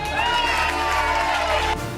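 A beauty pageant crowd cheers and shouts continuously, loud and excited, with a bright whistle-like tone over the roar that cuts off near the end.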